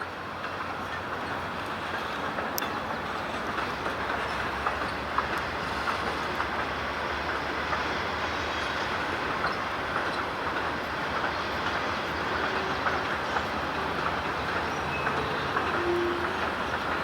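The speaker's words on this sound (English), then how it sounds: "NS271 was given the signal to bring its train of J.B. Hunts westbound." A Norfolk Southern NS271 westbound intermodal freight hauling J.B. Hunt containers on the Pittsburgh Line near Cove and the Rockville Bridge, giving a steady, loud rolling rumble that holds evenly from start to finish with no voices.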